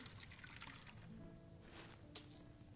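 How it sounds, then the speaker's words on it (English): Water is poured as a refill in the video game Skyrim, a soft trickling pour followed by a brief clink of glass near the end, faint and close. "I'd like a refill on my water,"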